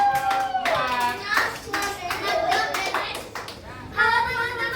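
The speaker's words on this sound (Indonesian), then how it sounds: "tepuk tangan buat" Classroom of children clapping for a student group after their presentation, a short scattered round of applause mixed with kids' chatter and a teacher's voice.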